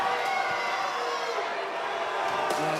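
An arena crowd at a live armored MMA fight in Pittsburgh, Pennsylvania, cheers and jeers in a steady, distant roar, with a commentator talking over it.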